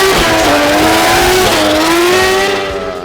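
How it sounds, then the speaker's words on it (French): A drift car with an unusual chassis screams loud and close at a night-time drift event in Vesoul, its engine holding a high revving note that rises and dips before trailing off. "On voit une certaine aisance avec un châssis pas du tout commun en drift"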